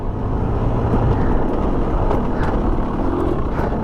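Husqvarna TE300 two-stroke dirt bike ridden along a track, its engine droning loud and close with a steady low rumble and pitch shifting as gears change.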